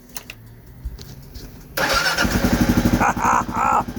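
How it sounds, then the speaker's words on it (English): A first-generation Kawasaki KLR 650 dual-sport motorcycle engine turns over after a quiet moment and catches, then runs with a choppy, pulsing idle and a couple of short revs close by. "The sound of the KLR."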